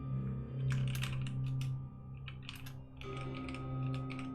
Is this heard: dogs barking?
no